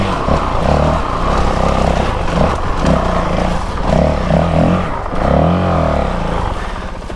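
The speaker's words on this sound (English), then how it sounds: "you can hear I'm still just beating on this clutch" A Honda CRF450RL dirt bike engine, fitted with a GET ECU, revs hard and continuously up close on a trail ride, its pitch surging and dropping as the clutch is worked, with no talk over it.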